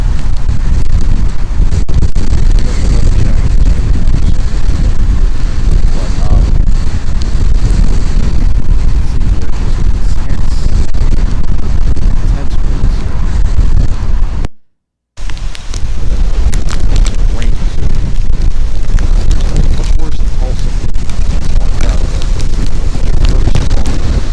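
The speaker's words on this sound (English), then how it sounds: "These winds look very strong." Strong derecho storm winds in Oklahoma roar and buffet the microphone continuously, with a brief dropout partway through, then the gusting rush resumes.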